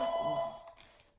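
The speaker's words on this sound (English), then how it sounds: "I'm gonna eat while this phone ring." A telephone bell rings once in a room, a bright electronic trill heard fairly close that fades out after about half a second, with faint talk underneath.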